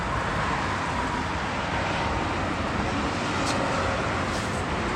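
Loud, steady roar of highway car traffic heard from a bridge overhead, a dense continuous wash of passing vehicles with no clear gaps and no talking.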